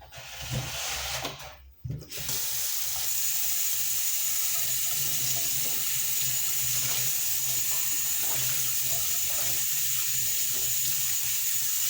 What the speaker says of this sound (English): I gotta rinse out this coffee filter again